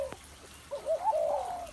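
Spotted doves kept as cage birds give a soft, close cooing phrase with a brief note, a pause, then a rolling, wavering coo, over quiet background noise.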